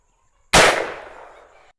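A single close, loud gunshot from a Winchester 53 rifle chambered in 25-20 WCF, firing an 85 grain lead bullet: a sharp crack after silence, with a ringing tail that fades over about a second.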